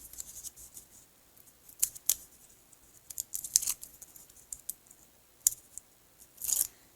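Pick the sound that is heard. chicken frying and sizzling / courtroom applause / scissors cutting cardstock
scissors cutting cardstock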